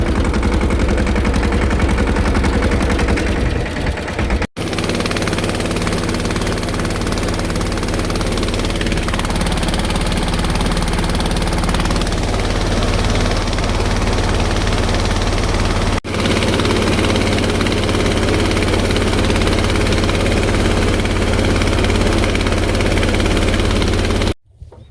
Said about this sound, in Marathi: आता ढकलून चालू करणार ट्रॅक्टर औषध मारण्यासाठी